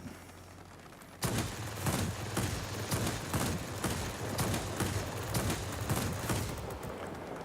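Aircraft machine guns and a slower cannon fire in the video game World of Warplanes, starting abruptly as a dense, continuous rattle of rapid shots with sharper periodic bangs, loud and steady with no voice over it.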